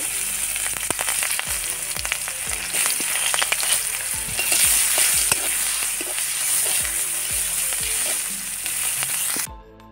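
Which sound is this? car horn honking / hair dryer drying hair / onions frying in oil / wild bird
onions frying in oil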